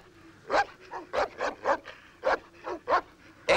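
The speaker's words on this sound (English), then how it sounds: "Tell him to let the dogs out." Several dogs barking in a rapid, uneven series of sharp, fairly close barks with a few yips mixed in, heard alone without talk.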